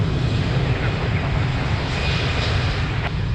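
A fixed-wing airliner at Lisbon Airport on runway 02 makes a loud, steady engine roar that holds evenly throughout with no break.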